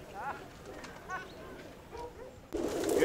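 Pigeons at a loft in Vrontou, Olympus, give soft, repeated cooing calls at middle distance over outdoor background noise, and a louder burst of noise cuts in near the end.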